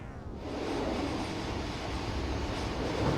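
A train pulling into West Runton station in Norfolk rumbles along with a steady rushing roar of wheels on track, continuous and moderately loud, with no voices.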